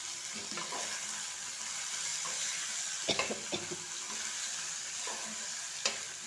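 Ingredients for bitter gourd fry are stirred in a hot pan while a soft, steady sizzle continues. Several sharp scrapes and clinks of a spoon against the pan stand out above the frying.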